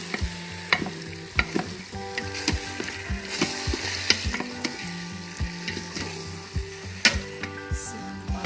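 Spoon stirring onions and flour into tomatoes in an Instant Pot for tomato soup, with repeated scraping strokes and soft clinks over a steady sizzle, close and moderately loud, with no talking.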